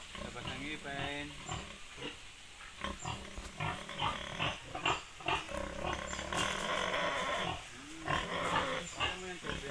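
A Large White and Pietrain crossbreed boar grunts and snorts repeatedly in a farm pen, loud and close, with people talking nearby throughout.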